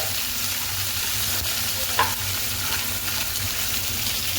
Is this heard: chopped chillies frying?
yes